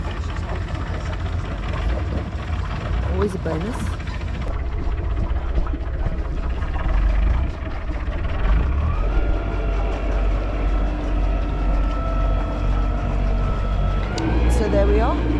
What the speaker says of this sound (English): Yeah, engine all started.